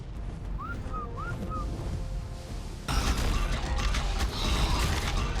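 A whistle command in the video game ARK Survival Ascended: two short rising whistle chirps, each trailing into a flatter tone, sound over steady game ambience. Louder mechanical, creaking game noise takes over partway through.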